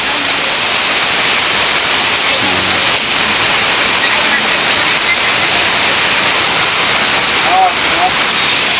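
Heavy rain pours steadily and loudly over an outdoor construction site, a dense unbroken hiss filling the whole stretch with no letup.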